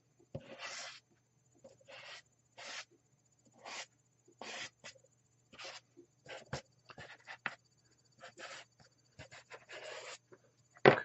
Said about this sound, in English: And then I'm going to come down here too and draw in some more here.